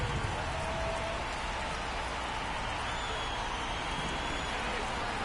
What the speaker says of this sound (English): It's coming down pretty good